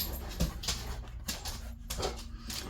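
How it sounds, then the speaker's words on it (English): A dog whimpers and whines softly in short bursts nearby, with some faint panting in between. "you may hear my dog in the background who thinks if anybody is moving around outside"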